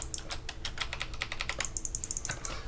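Rapid, crisp clicking keystrokes on a Hexgears Supernova mechanical keyboard fitted with loud clicky Kailh BOX Jade switches, an irregular close-up patter of typing with no voices.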